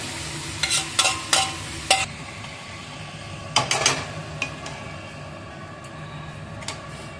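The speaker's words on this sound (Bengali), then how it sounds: "এর মধ্যে আগে থেকে ম্যারিনেট করা চিকেনটা চলে গেল" Marinated chicken sizzles steadily in a pan with cumin and coriander powder, with several sharp clinks and scrapes of stirring in bursts over a constant frying hiss.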